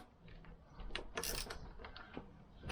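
Nuts and washers being taken off a Lambretta scooter, with soft metallic ratcheting clicks and small mechanical clinks at close range, several brief bursts spread across the moment with no talking.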